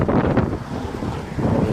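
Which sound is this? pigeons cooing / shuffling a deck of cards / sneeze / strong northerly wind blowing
strong northerly wind blowing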